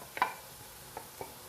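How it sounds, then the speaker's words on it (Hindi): Spices frying in a pan for keema karela, a soft steady sizzle with a few light scrapes and taps of a spoon stirring, close and quiet, with no talking. "थोड़ा सा इसका करते हैं फ्राई थोड़ा सा हल्का"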